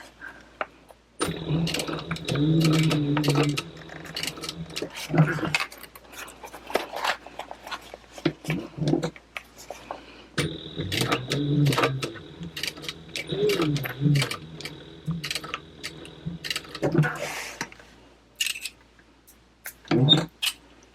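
A sewing machine stitches through layers of canvas for a wallet, running in two long motorized bursts with pauses between, close and fairly loud, mixed with handling clatter and occasional talking.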